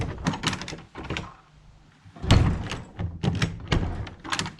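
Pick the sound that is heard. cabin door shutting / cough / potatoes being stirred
cabin door shutting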